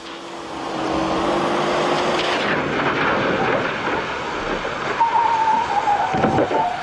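A car brakes hard with its front wheels locked, giving a loud, sustained tyre skid over road and engine noise, and a high screech rises near the end.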